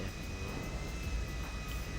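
An airplane flying in the video game GTA V makes a steady, dense engine roar that holds unchanged throughout with no talk over it.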